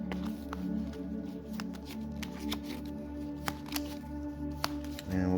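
Minion cards for the Dungeon Crusade board game are shuffled by hand at close range, a run of soft riffling flicks and slaps over a low steady background hum.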